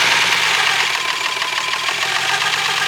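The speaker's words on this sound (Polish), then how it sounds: "taki jest to piękny motor jak słyszycie pracuje na wszystkie cylindry ma ich aż 6" A steady, close idle of a Lexus IS200 six-cylinder engine running smoothly, a continuous mechanical hum with a faint rhythmic knock and no voices.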